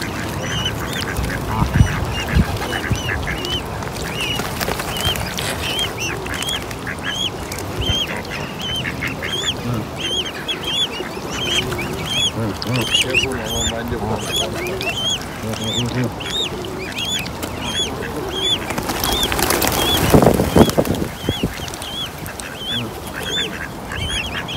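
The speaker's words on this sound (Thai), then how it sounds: "มีลูกห่านตั้งหลายตัวนะคะ" Many goslings, baby geese, peep in quick high-pitched bursts nearly nonstop for over twenty seconds, close and lively, with louder honking from adult geese and rustling outdoors toward the end.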